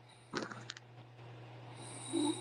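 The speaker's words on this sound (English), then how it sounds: "Is that her snoring?" A woman snores in a brief snorting burst around the half-second mark, followed by quieter breathing under a steady low hum; the snore is close but fairly soft.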